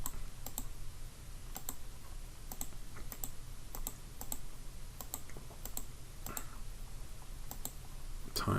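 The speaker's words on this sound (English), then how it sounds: "Okay, so I'll do this with a calculator, clicky click." Calculator buttons being pressed, a steady run of crisp, light clicks in irregular quick bursts over a faint room hiss.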